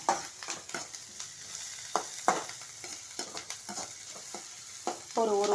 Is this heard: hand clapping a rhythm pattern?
no